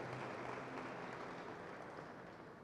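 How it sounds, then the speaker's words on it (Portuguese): An audience applauds steadily at a public talk, a dense, even clatter of many hands that fades slightly toward the end. "vamos aplaudir isso também"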